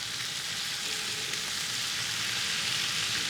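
Shrimp sear in a very hot pan, a steady, dense hiss of sizzling oil that holds even and unbroken throughout, close and moderately loud, with no voices.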